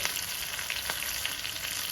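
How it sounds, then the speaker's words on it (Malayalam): Mustard seeds, green chillies and curry leaves fry in hot oil for a Kerala-style curry tempering, a steady dense sizzle with scattered crackles and pops, close and continuous, no voices. "നമ്മുടെ എണ്ണ നല്ലോണം ചൂടായി വന്നിട്ടുണ്ട് അതിലേക്ക് ഒരു ടീസ്പൂൺ കടുക് ഇട്ട് കൊടുക്കുക"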